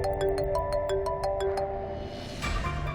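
A phone ringtone plays a repeating electronic melody of short beeping notes, then cuts off into a brief rustle of background noise.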